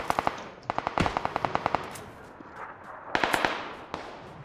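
Bursts of automatic gunfire in PUBG, sharp rapid cracks in short volleys with gaps between, some close and some more distant, no talk over them.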